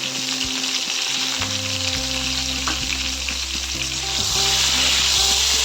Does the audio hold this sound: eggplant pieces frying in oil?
yes